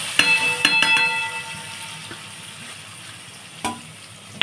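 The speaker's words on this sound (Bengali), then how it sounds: "পনিরগুলো অল্প ভাজা হবে আমার" Paneer pieces fry in melted butter in a pan, a steady soft sizzle with a few sharp clinks of utensils near the start and another around the fourth second.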